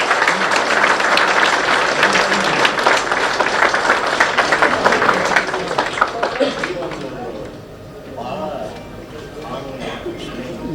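An audience breaks into loud, dense applause that continues for several seconds and then thins into scattered claps and murmuring voices at a lower level.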